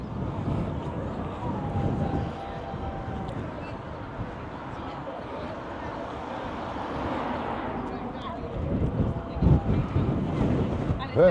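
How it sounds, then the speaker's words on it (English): Gusty seaside wind at Weymouth buffets the microphone with low rumbling blasts that swell and ease, strongest at the start and near the end. "Very windy."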